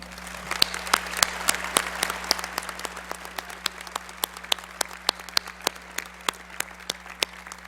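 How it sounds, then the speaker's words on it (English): An audience at a winter commencement applauds the platform party, a continuous bed of clapping with many sharp, distinct individual claps standing out near the microphone, steady throughout with no talking. "And now we can all applaud the platform party."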